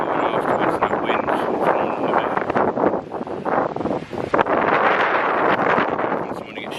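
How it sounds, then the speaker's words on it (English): Strong wind blows through woodland at Kennel Vale in Cornwall, buffeting the microphone in loud gusts with rustling underneath, and someone talks under the noise. "you probably can't hear me over the wind again there"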